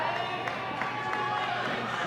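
A wrestling arena crowd cheers at a pro wrestling show, a steady wash of roaring and shouting heard from a distance beneath a commentator talking.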